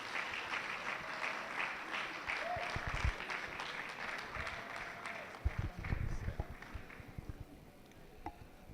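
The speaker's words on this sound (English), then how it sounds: "A round of applause for her," Audience applause at an education summit and graduation ceremony, welcoming a senior manager for corporate social investment at Seplat Energy; steady, moderately distant clapping from a crowd lasting the whole stretch, with some louder bursts near the end.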